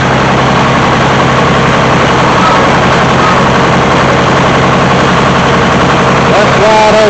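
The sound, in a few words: old Detroit diesel engine revving on hydraulics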